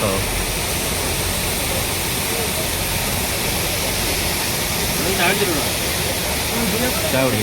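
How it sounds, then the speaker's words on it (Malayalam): Steady, dense rushing roar of a high waterfall in hill country fills the whole clip, broad and constant, with faint brief tonal sounds drifting over it. "നമ്മൾ വരുന്ന വഴി ഒരു വെള്ളച്ചാട്ടം കണ്ടു"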